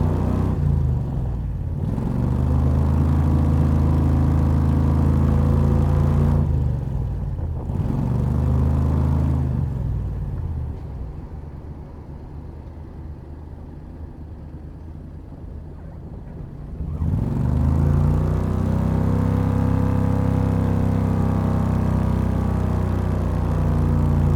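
A Renault fitted with a 670 cc Predator engine and a CVT drives along, its steady engine drone and low rumble loud and close, dipping briefly in the middle as revs fall before climbing again, with no talk.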